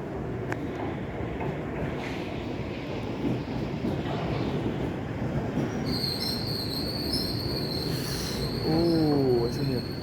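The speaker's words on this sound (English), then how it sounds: "this should be my train to Heathrow." A Piccadilly line Underground train bound for Heathrow arrives, a steady loud rumble with rising high-pitched brake and wheel squeals and a warbling tone near the end.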